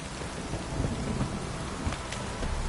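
Steady heavy rain pours continuously in a video game with low rumbles of thunder rolling underneath, dense and enveloping, with no voices.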